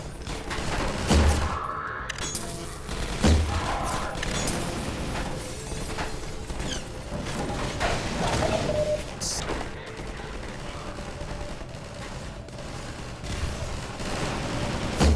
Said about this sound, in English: We're just shooting at all the windows here.